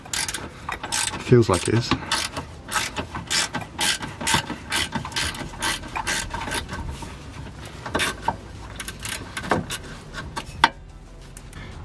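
A ratchet undoes crusty bolts on a Mini Cooper bracket, giving fast, close metallic clicking in repeated bursts of strokes, with a brief spoken remark.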